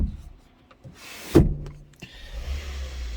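A car sunroof motor whirs briefly in a quiet cabin, followed by a soft low rumble as the engine comes to life.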